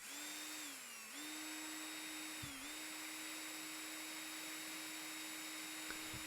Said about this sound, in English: so I think I recorded my drill.